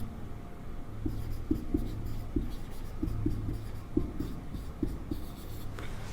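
Handwriting during a class 11 maths lesson: a pen or chalk scratches out quick, irregular strokes with small taps, close and fairly quiet, without speech.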